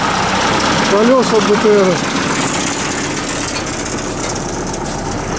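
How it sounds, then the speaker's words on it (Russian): A homemade tractor fitted with a combine harvester engine runs with a steady, loud rumbling drone, while someone speaks briefly over it. "Эссендовский двигатель от комбайна."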